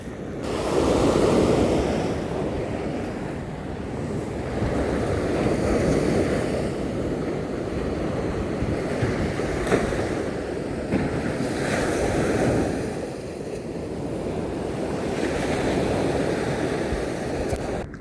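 Sea waves breaking against a rocky shore where stones are piled along the water, a loud, continuous roar of surf swelling and easing in slow surges, with wind buffeting the microphone.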